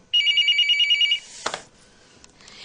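An indoor telephone rings with a rapid electronic trill for about a second, then stops. A single thump follows, and the room falls quiet.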